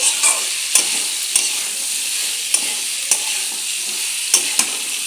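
Fried potatoes and pointed gourd sautéed with spices in a pan: a soft, steady hiss of frying broken by periodic scraping knocks of a spatula stirring, close and unaccompanied by speech.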